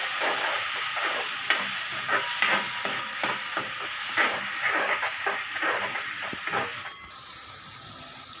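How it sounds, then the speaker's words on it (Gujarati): Tomato puree is stirred into frying okra masala on a medium flame, with a continuous hiss of frying under repeated rhythmic spoon scrapes against the pan, easing off near the end. "હવે ટમેટાની જે પ્યુરી છે એ આપણે ઉમેરી દેશું અને મિક્સ કરી લેશું।"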